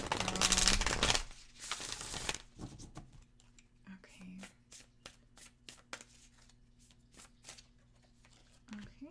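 A burst of tarot card shuffling at the start, followed by scattered soft taps and rustles as cards are handled and laid down, close and fairly quiet.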